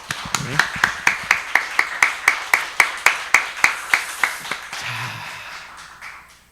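A church congregation at a Korean Sunday service for Parents' Day claps for the parents: a steady run of evenly spaced claps that keeps a regular rhythm, then dissolves into a looser patter of scattered applause that fades out.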